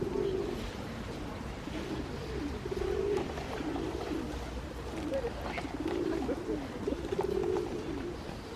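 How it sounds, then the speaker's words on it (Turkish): Pigeons coo repeatedly in a garden, low rolling calls recurring every second or so at moderate volume over steady outdoor background noise. "Burada kuşlarımız var."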